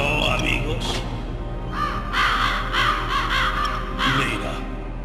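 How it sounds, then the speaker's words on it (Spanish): Crows caw repeatedly in Metal Gear Solid, loud harsh calls in bursts layered with voice-acted talk and a low rumbling backdrop. "Los cuervos no son carroñeros como todos creen."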